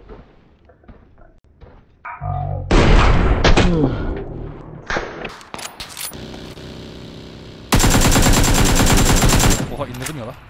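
Loud, close gunfire in the video game PUBG: heavy sniper cracks and rapid automatic bursts with a sustained burst of firing near the end.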